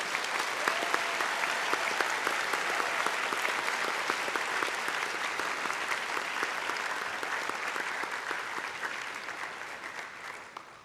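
An audience in a hall gives sustained applause for National Science Bowl middle school competitors, a dense, steady wash of many hands that holds for about ten seconds and slowly tapers at the end.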